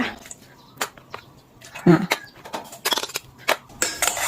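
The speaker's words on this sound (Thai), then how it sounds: "ผสมเครื่องปรุงทุกอย่างให้เข้ากันหมดก่อนค่ะ" Seasonings for fried rice being mixed together in a bowl, with scattered clinks and scrapes of a utensil against the dish while someone talks over it.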